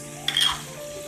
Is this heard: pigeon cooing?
no